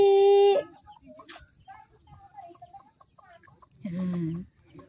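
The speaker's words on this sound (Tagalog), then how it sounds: "Yan, may manok sila, oh. Lalaking manok niyan." A male hybrid chicken clucks in short bursts near a mountain path, loud calls at the start and again near the end, with quieter clucks and rustling between them.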